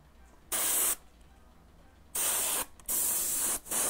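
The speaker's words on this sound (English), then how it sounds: "if you add texture like this to your airbrush work, you are so much ahead" Airbrush spraying paint onto custom Converse shoes in Rick and Morty artwork, with hissing bursts of spray in short separate passes, close and steady, with quiet gaps between them.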